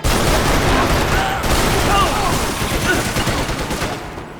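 Rapid gunfire from the video game Max Payne 3 fills the clip as a loud, dense barrage of bursts that fades a little toward the end.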